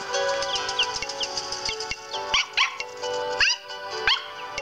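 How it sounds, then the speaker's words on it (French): A Welsh Corgi Pembroke barking in the Nintendogs+Cats video game, several sharp yips and barks in an uneven sequence over a steady electronic background, close and clear. "donc vous entendez les aboiements, ils sont différents"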